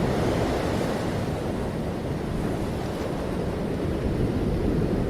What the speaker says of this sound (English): and the ocean sound